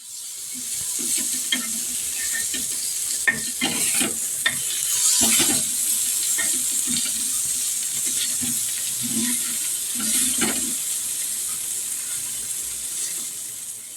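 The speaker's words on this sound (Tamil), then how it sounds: "அப்படியே மூடிடுங்க ஒரு ரெண்டு நிமிஷம் கொதிச்சோடனே ஆஃப் பண்ணிடலாம்" Fish curry of banana fish bubbling and sizzling in a covered pot, a steady close hiss with small pops and bubbling ticks throughout, no talk.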